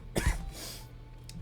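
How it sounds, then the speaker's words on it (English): A man gives a couple of close, sharp coughs, then a softer throat noise, then a brief cough at the end, loud against a quiet background. "I don't mean to cough"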